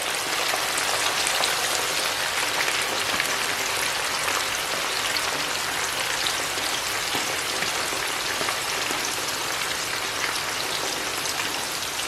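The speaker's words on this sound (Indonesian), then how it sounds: "Kemudian kita goreng kacang metenya ya." Cashew nuts fry in hot oil that covers them, giving a dense, continuous bubbling sizzle, loud and steady throughout with no voices.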